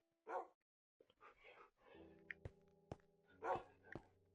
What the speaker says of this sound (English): Get out of the way, you damn dogs.